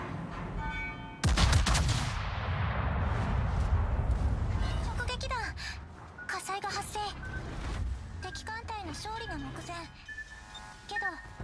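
Naval guns fire in the World of Warships video game: a loud, sudden blast, then a long rumbling tail and further scattered bursts, while a voice talks over the later part.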